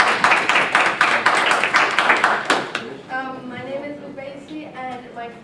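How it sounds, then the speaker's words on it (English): Audience clapping for a teenage girl, a brisk burst of claps for roughly three seconds that ends abruptly, followed by someone speaking. "Let us give her a warm round of applause."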